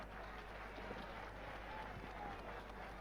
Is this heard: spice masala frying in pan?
no